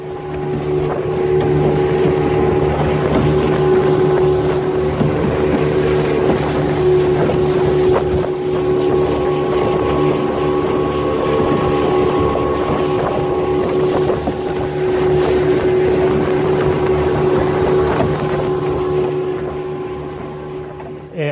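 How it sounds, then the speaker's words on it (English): Small motorboat travelling on water in Papua New Guinea, its engine droning steadily and loudly throughout with a constant hum and wind noise, no talking. "We went by a small boat and we reached this place."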